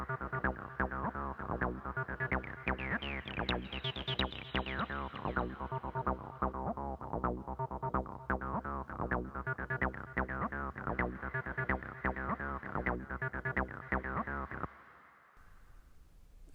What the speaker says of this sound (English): So essentially it's a kind of overdriven reverb